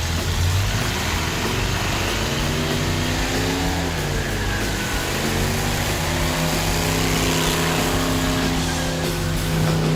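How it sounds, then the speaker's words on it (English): A blown Ford Thunderbird's engine roars steadily and loudly throughout while doing a donut, its pitch dipping and rising as the revs shift, with a heavy rumble and no talk over it. "I just did a donut in front of Washington."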